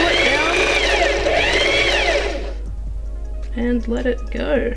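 A sewing machine stitches faux fur at close range, its steady whirring hum running for a couple of seconds before someone speaks over the quieter machine.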